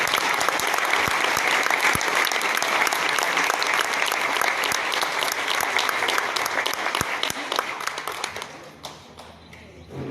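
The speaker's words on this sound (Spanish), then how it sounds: "Les pido a todos un generoso aplauso para nuestra conferencista." Audience applause for a keynote speaker at a conference, a dense, steady crowd clapping that holds loud for about eight seconds before thinning and fading toward the end.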